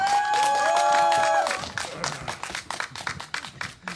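An audience bursts into applause at an outdoor candlelight rally in Seongju, dense clapping and some cheering that starts loud and full, then thins into scattered, uneven claps.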